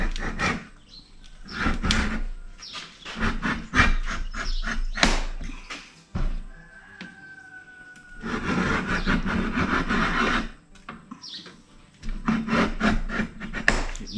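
A utility knife scores sealing material on a portable water pump, giving close, repeated scraping and rasping strokes in short bursts with brief pauses, no voices.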